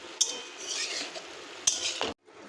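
Tomato and green peas being stirred in a cooking pan, with a soft sizzle under a few metallic clinks and scrapes of a utensil against the pan, close but fairly quiet.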